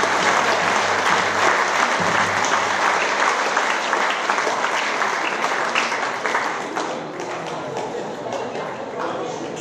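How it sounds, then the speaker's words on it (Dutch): Concert audience applauds loudly and steadily at the Freedom 4All concert, a dense sustained clapping that fades slightly toward the end. "Grote applaus voor die man."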